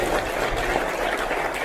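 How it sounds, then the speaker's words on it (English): An audience claps for a speaker being introduced at a leadership event, a dense, steady round of applause from a crowd with no break. "Massive round of applause, please."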